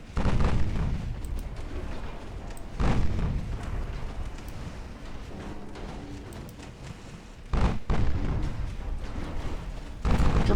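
Torpedo detonations in the Ultimate Admiral Dreadnoughts naval video game: several heavy booming blasts spaced a few seconds apart, each followed by rumbling, creaking battle noise, with no talking.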